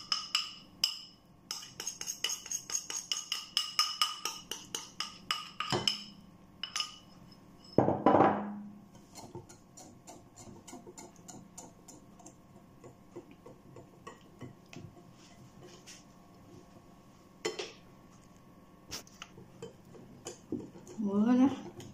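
Bursts of clinking and scraping as chocolate fondant cake batter is stirred in a bowl with a utensil, busy for several seconds then sparse taps and knocks, with someone talking at times.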